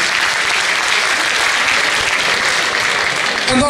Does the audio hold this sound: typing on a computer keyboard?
no